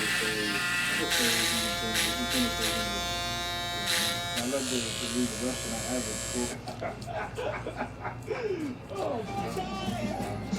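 An electric shaver blade buzzes steadily through dense, coarse straight hair during a haircut, close and loud, with speech over it in the second half.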